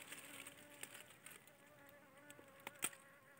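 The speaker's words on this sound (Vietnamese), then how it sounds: "Như vậy là có một con ong soi nha các bác nhé" A single scout bee buzzes faintly and steadily around the entrance of a wooden bee box, with a few brief louder passes.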